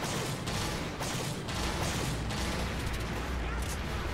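Gunfire in Monster Hunter 3 Ultimate during a hunt of a Hallowed Jhen Mohran, with dense booming shots and rumbling artillery-like blasts throughout under a steady noisy game mix.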